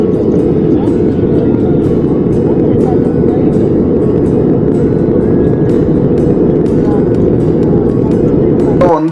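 A steady, unbroken low roar fills an airliner cabin cruising at around 42,000 feet, a dense rumbling drone that holds at the same loud level throughout.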